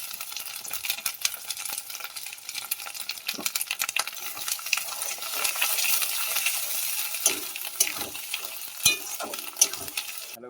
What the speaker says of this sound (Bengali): পেঁয়াজটা ভাজা হয়ে গেছে, ওর মধ্যে টমেটো দিয়ে ভেজে নেব।